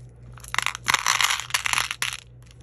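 Plastic craft beads poured and dropped into a container, a series of close clattering rattles in several uneven bursts, loud against a quiet room.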